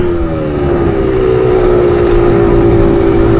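KTM motocross dirt bike engine held at a loud, steady high-revving drone over a jump on the last lap of a race, close and continuous with no talk.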